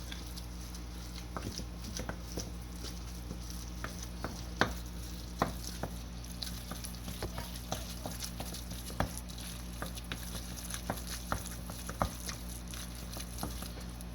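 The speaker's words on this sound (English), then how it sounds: "I'm just going to mix this all up." A spoon stirs mayonnaise into a homemade fish dip in a kitchen bowl, giving a steady run of soft wet clicks and scrapes with a low background hum and no talking.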